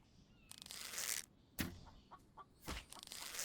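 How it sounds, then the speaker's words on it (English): Video-game chickens in a survival game cluck and squawk in scattered bursts over a few seconds, fairly loud and close, mixed with brief rustling and thuds, with no talking. "there's lots of chickens over here."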